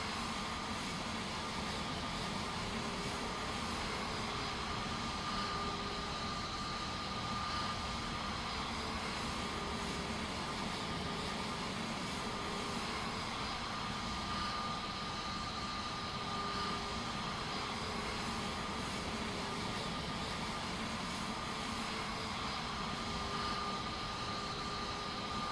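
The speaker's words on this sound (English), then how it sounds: "We have a good engine start." Airbus A321neo jet engines running after start in Microsoft Flight Simulator 2024. They give a steady, even drone with a constant high whine on top, heard from the cockpit with no voices.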